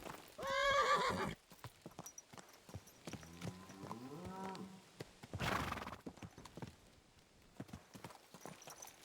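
A horse in the video game Kingdom Come: Deliverance 2 snorts and neighs with a rising whinny, while hooves clop intermittently in the foreground.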